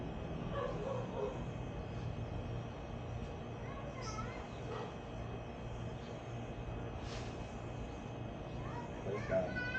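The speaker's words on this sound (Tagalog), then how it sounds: "maingay lang ang aso mga kalyabe" A dog yips and barks faintly at a distance a few times, buried under a steady rumble of background noise.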